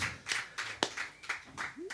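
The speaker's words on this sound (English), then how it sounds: "Everybody give me a hand, everybody." A small audience claps for comedian Eric Davidson in a short, thin burst of a few hands. Handclaps come in uneven pulses, with a brief voice sound near the end.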